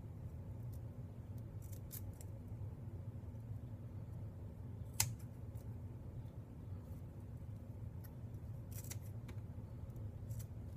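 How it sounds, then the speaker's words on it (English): Scissors snip around a paper shape in a quiet room, a scattering of faint, sharp cuts at irregular intervals over a low steady background hum. "To cut them out, we're going to use our scissors."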